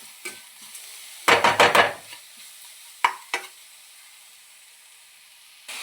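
Chili powder being stirred into frying onions, with a low sizzle under irregular bursts of a spoon scraping and clattering against the pan, and a few short scrapes spaced out through a mostly quiet pan hiss.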